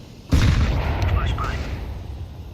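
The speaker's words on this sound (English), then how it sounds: "Throwing a grenade." Grenade blast in Counter-Strike 2, one sudden, loud, close boom that hits hard and then trails off into a rumbling decay lasting a couple of seconds.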